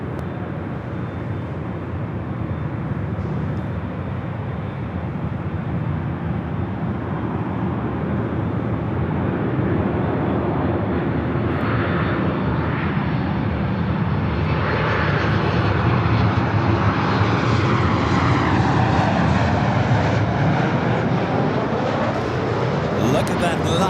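Airliners at LAX airport, heavies lined up on the north side for takeoff, produce a continuous broad jet roar that gradually grows louder, with a voice talking over the engine noise.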